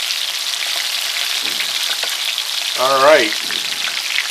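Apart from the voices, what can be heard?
sesame crusted yellowfin tuna searing in a pan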